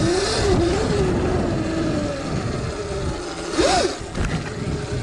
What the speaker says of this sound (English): Hear that back wheel spinning.